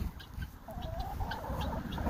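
Backyard homestead flock of Black Marans, Silkie and Bantam chickens clucking softly at moderate distance, with a few short calls and a brief rising squawk over a low ambient background, no talking.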